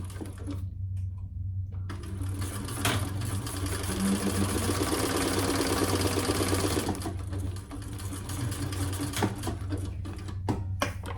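A sewing machine basting the bottom side of a fabric train case, running in a steady continuous mechanical whir for several seconds, close and loud, with brief pauses and clicks at the start and end.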